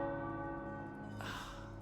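Tower bells ringing in Marvel's Midnight Suns, a sustained resonant bell tone with steady overtones and a brighter strike near the end, moderately loud with no speech.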